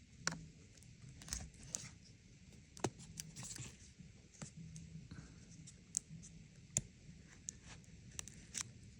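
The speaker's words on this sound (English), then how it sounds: "This knife, and straight up just cut these" A knife cutting through the rivets of a riveted keyboard on a 2010 11-inch MacBook Air: scattered sharp snaps, clicks and scraping crunches at close range over a steady low background hum, with no talk.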